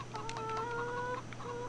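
Chickens clucking on a farm in the game Farming Simulator 17, a few short close clucks and drawn-out tonal calls from fowl over a steady low hum, no talking.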